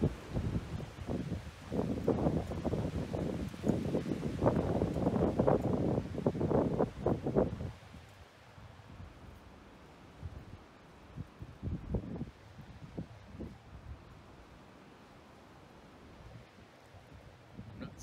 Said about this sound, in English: Definitely some good gusts of wind that are blowing.